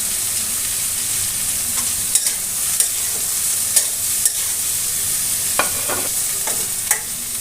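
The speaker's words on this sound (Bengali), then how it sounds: "সমস্ত সবজি একসঙ্গে আরও 2 মিনিট ভেজে নেব।" Mixed vegetables including ridge gourd fry together in a pan for a Bengali fish-head chhachra, a continuous close sizzle punctuated by several clicks and scrapes of stirring.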